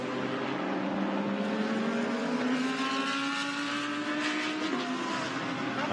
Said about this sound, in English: the Nissan, great sounding car